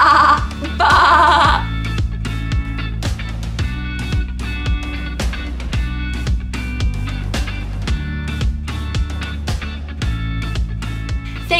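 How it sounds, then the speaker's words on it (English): Sheep bleats sound loud and close in two short wavering calls at the start, followed by a long stretch of rhythmic music with a repeating beat. "Can you baa like a sheep?"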